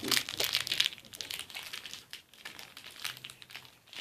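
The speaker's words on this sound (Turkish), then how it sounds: "Şimdi paketlerimizi açalım." Football sticker packets being torn open, a close, dry crinkling and crumpling of foil wrappers with bursts of tearing, soft and continuous with no talk.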